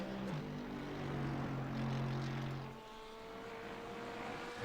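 Mercedes GT3 race car engine in the iRacing sim at Hockenheimring: a loud, steady engine drone with strong harmonic tones and a throaty low end. The pitch drops sharply near the three-second mark, then the engine carries on at a lower note.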